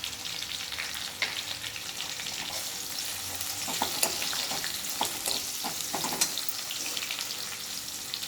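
Hot oil sizzles and crackles steadily as asafoetida fries for a dry gobi matar dish, a dense broadband hiss with scattered pops and a few brief spatula clicks, close and even throughout.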